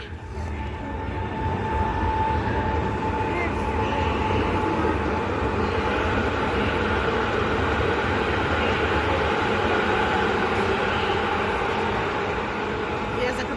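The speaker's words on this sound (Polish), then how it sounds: "O, ten odjeżdża. Startuje elf do Gniezna." A PESA Elf passenger train sets off toward Gniezno, giving a steady, loud rumble of rail running noise and motor hum that lasts throughout, with a voice talking over it.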